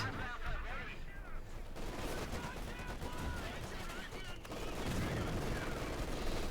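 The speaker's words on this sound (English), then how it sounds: "And we do get a mortar attack." Mortar fire in Company of Heroes 2, half-track against half-track: dense bursts of gunfire and explosions mixed under constant talking.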